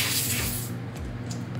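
Compressed air hissing loudly from an airbrush compressor hose as it is disconnected, a broad steady spray that cuts off sharply partway through, leaving a low residual hum and faint clicks.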